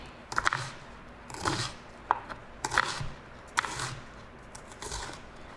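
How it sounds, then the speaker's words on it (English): A knife chops a vegetable on a cutting board, making close, crisp thuds in an irregular series of about six or seven cuts with short pauses, some doubled, clearly heard with no talking. "Watching those fingers, and then we're gonna chop the other way."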